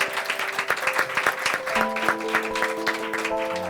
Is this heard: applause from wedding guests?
yes